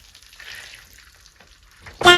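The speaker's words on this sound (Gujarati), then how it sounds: "કાજુ તેલમાં તળવાના છે" Cashews frying in hot oil for a kaju paneer curry, a soft, faint sizzle that swells briefly, then a sudden loud burst of crackling at the very end.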